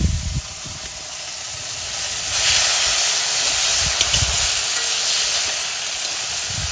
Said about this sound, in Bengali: মাছে তেল হয়েছে, মাছ ভাজা হয়ে গেছে, এখন মাছ ভাজা তুলে নেব